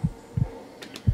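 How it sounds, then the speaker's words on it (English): Heartbeat sound effect in the horror video game Outlast, with three low, soft thumps spaced unevenly over a quiet hum and no talk. "This is where the heartbeat sound comes in."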